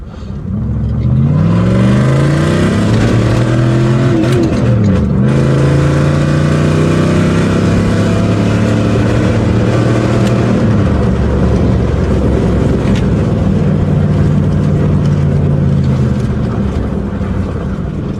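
A Jeep Grand Cherokee ZJ SUV engine rises and falls in pitch through several bursts of acceleration, a loud sustained drone without any talking.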